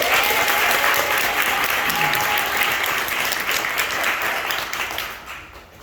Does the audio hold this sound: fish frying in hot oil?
no